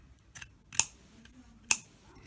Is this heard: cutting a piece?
yes